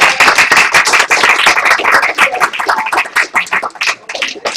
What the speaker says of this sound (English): Let's give a hand of applause.